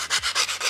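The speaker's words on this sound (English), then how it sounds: "Just going to go away with sandpaper now and just clean up the edges." Sandpaper rubbed by hand along the edge of a TIE pilot helmet, giving about six close, even scratchy strokes in a steady back-and-forth rhythm.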